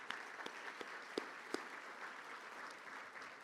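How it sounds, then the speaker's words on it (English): Audience applause at a school's annual community dinner: a steady, moderately distant wash of clapping through the room, with a few sharper individual claps standing out. "You can applaud that."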